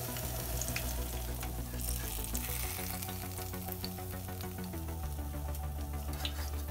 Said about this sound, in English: this is the last of the fried plantain